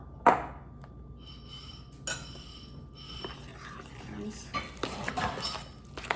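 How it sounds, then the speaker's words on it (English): Flour is added to a banana chocolate cake mix: a bowl clinks, utensils scrape and tap against dishes, and soft stirring sounds follow close up while a person talks. "So now I am going to put another cup of flour."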